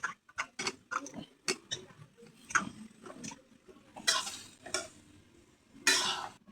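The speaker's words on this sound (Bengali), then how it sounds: "এখন আমি বেগুনগুলো ছেড়ে দেবো।" Eggplant pieces tumble into a pan of cooked spices for a hilsa fish curry, giving a series of sharp taps and scrapes from a spatula, with short sizzling bursts toward the end.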